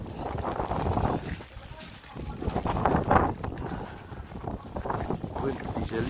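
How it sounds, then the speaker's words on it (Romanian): Strong wind in December in Viborg buffets the microphone with a continuous low roar and gusty rumbling that rises and falls throughout, with a voice faintly present. "Ioi, ce vânturi."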